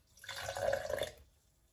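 Very hot tap water pours onto flour for a sourdough starter, a soft hissing splash that rises over about a second and then stops, close and fairly quiet with no talking.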